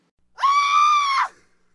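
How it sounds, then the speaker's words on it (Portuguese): A single high-pitched, sustained scream lasting about a second, loud and clear against silence, fading out with a slight tail. "Ecoou um grito agudo e o punhal caiu."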